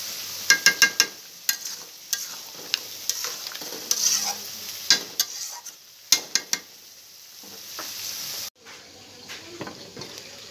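Spice masala stirred and sautéed in a pan, with a spoon scraping and clinking against the metal in sharp, repeated strokes over a steady sizzle that fades briefly near the end.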